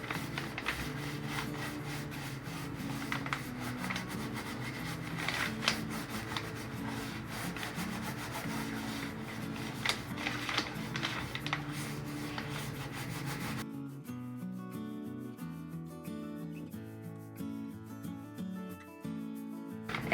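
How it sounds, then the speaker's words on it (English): A brush scrubs paint into a thrift store basket with a steady, dry rubbing and scratching, close and continuous for about fourteen seconds before the scrubbing gives way to quieter tonal sounds. "I'm just scrubbing that in there."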